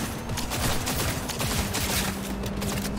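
Kenshin gun in Cyberpunk 2077 firing a dense, continuous burst of rapid shots for about three seconds, loud and close with no voices over it.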